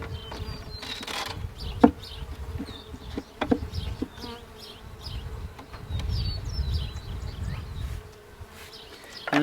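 Steady buzzing of many honey bees close by as a package is installed in a hive, with individual insects droning past and a few soft knocks and taps.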